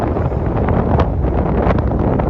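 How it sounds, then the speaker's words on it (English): Strong wind roars and buffets constantly, a dense, gusty rush with no pauses throughout. "It's windy as F, just like now"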